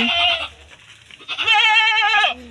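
Goats on a farm bleat in two loud, wavering calls close by, the second longer and more drawn out, with quiet pauses between.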